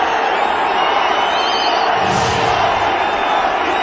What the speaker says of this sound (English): Massive cheer, because they're aware they've gone past the 54.